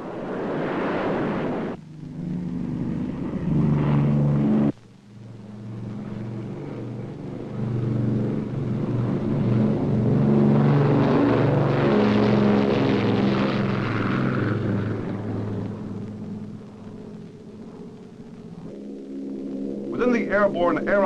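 USAF Air Task Group propeller planes taking off during a 1960s high-altitude nuclear test operation, a loud sustained engine drone that swells and holds for much of the stretch, with a few abrupt shifts in tone.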